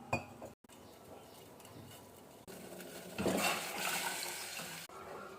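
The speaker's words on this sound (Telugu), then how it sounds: "ఇలా కలియపెడుతూ ఉండాలి మంచిగా" A spoon stirs roasted lentils and water in a pot, giving soft scraping and faint clinks that grow louder in the middle, with brief pauses between strokes.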